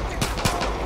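A player's gunfire in the video game Far Cry 5: three quick, sharp shots spaced about a quarter-second apart, close and punchy, over a low steady background hum.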